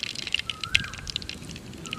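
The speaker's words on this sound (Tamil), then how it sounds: "வெந்தயம் வெடிக்கட்டும்." Fenugreek seeds crackle and pop in hot oil, quick irregular sharp snaps over a soft sizzle, close and moderately loud.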